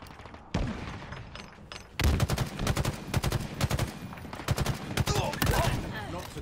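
Rapid automatic gunfire in the video game Halo Infinite, loud bursts of repeated shots starting after a brief quiet lead-in and continuing in clustered volleys with thuds between.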